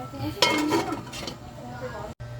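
A metal lid clanks onto a pot of cooked mussels, with clinks and scraping of cookware in a home kitchen, then a quieter stretch of low background noise.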